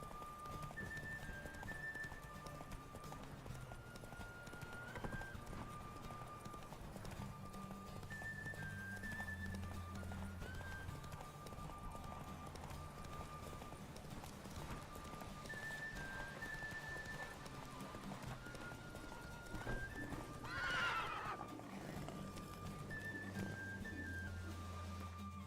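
Hooves clop steadily as the horse gallops in The Witcher 3, with game music and faint rain underneath and a brief neigh partway through, all at a moderate, even level.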